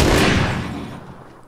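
Gunfire in the video game PUBG: a loud burst of shots right at the start that decays away over the next second, with no talking over it.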